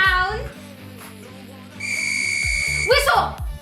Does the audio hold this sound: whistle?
yes